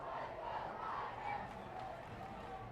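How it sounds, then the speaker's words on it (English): Home crowd at a high school football game in Blue Valley, late in the fourth quarter, starts a chant; a broad, steady wash of many voices from the stands, fairly distant and continuous without clear breaks. "Blue Valley crowd beginning a chant here."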